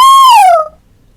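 A storyteller's voice imitates a lion's failed roar, producing a single loud, high, squeaky tone that slides slightly downward and cuts off after about half a second.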